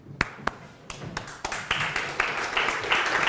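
An audience at a live show claps, starting with a few sharp, separate claps that soon build into steadier applause, with no voices.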